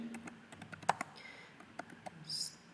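A computer keyboard being used to type C code, making a steady run of soft, close keystroke clicks with one sharper tap partway through and a brief louder clatter near the end, with no speech.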